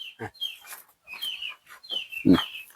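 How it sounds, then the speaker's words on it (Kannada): A country chicken held upside down squawks and clucks in short, close bursts, with brief rustling flaps of its wings between the calls. "ತಲೆ ಕೆಳಗ್ ಮಾಡಿದ್ರೆ ರೆಕ್ಕೆ ಹೊಡಿಸ್ಕೊಂಡು ರೆಕ್ಕೆ ಹೊಡೆಯುತ್ತೆ"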